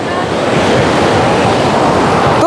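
Rough storm waves break continuously on the Black Sea shore at Anapa, Dzhemete, a loud, close and dense wash of surf mixed with strong wind buffeting.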